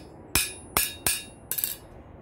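Four sharp hammer knocks on a cold anvil, driving a forged steel serving spoon out of the anvil hole; three single close, loud strikes, then a quick rattling cluster, with no talk.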